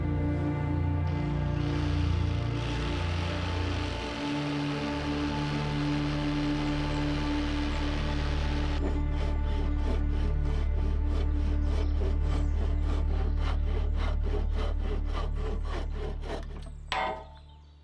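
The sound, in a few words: cutting wood with a handsaw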